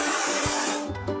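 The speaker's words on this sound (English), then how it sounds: "Let's paint over the discolorations" Cartoon spray painting over discolored patches on a toy truck: a close, steady hiss of spray that breaks into short bursts near the end, with no voices.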